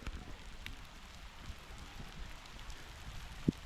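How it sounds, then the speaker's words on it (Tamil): Heavy rain pours at Alagar Kovil temple in Madurai, a soft, even hiss of falling water with a faint distant rumble and one brief knock near the end. "மழை வந்துருச்சு"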